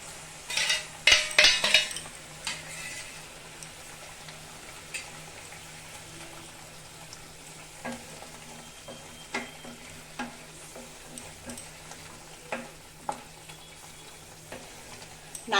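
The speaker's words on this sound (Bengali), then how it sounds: "তো ঝোলটা ফুটে গেছে, আমি এখন মাছটা দিয়ে দিব।" Prawns are dropped into a simmering coconut-milk malai curry thinned with coconut water, with a soft sizzle and bubble, close clinks of a utensil against the pan and a few sharp clatters.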